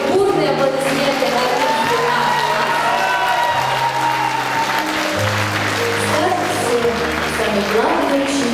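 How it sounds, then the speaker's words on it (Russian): A crowd at a school's last-bell ceremony for graduating 11th-grade classes applauds in a loud, continuous roar of clapping over steady background music. "Продолжаем под бурные аплодисменты"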